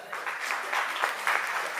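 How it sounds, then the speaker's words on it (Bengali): An audience at a community gathering applauds, giving a moderate burst of clapping that carries on steadily for under two seconds with no one speaking. "একটি হাততালি দেবেন"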